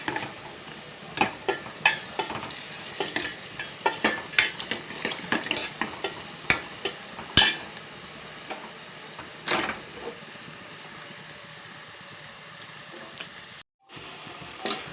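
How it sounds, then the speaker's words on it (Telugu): Raisins fry in ghee in a pan for beetroot halwa while being stirred, steady soft sizzling under repeated scraping and clinking strokes of a spoon against the pan. "వేసి బాగా ఈ ద్రాక్ష పొంగేలాగా వేయించుకోవాలి బాగా"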